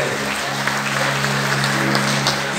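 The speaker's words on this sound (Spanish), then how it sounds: "un aplauso, gente linda." A crowd applauds at a live music show in San Carlos Sur, broad dense clapping under a steady low hum from the sound system, with no clear speech.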